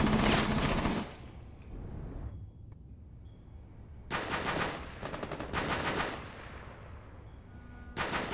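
Gunfire in an online shooter video game crackles in loud rapid bursts, with automatic volleys separated by short quieter gaps and no voices.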